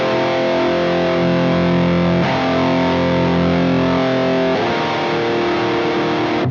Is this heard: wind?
no